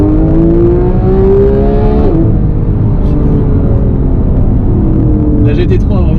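A Porsche 911 GT3 of the 991.1 generation downshifting into second gear: a loud, steady engine drone whose pitch drops sharply midway, then a fresh rising rev with a faint blip near the end, heard from inside the car.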